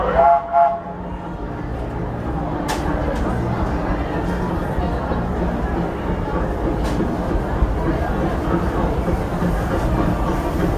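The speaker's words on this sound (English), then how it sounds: "please remain seated till the train comes to a complete stop" The Disneyland Railroad train rolls into the station with a steady, loud rumble and rattle of wheels on rails, a few sharp metallic clanks cutting through the continuous mechanical drone.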